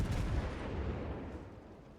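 Heavy ship artillery in World of Warships: Legends, a loud low boom at the start that rolls and decays over about two seconds, with no voices.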